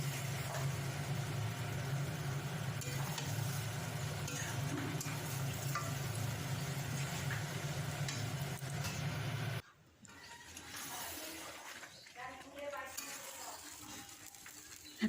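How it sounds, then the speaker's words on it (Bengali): Meat with potatoes is stir-fried in a pan with splashes of water, a soft continuous sizzle and scraping that runs steadily before cutting off and giving way to quieter kitchen clatter. "হালকা হালকা জল দিয়ে দিয়ে একটু কষবো"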